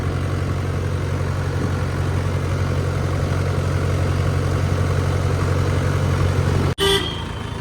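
A tractor engine runs with a steady, loud droning hum and a constant low throb, continuous until a brief dropout near the end, after which the running resumes.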